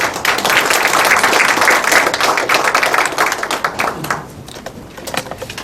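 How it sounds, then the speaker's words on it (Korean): Audience applause welcoming the head of the Korean disability organizations federation at a disability leaders' forum, dense steady clapping for about four seconds before thinning into scattered claps near the end. "큰 박수로 환영해 주시기 바랍니다."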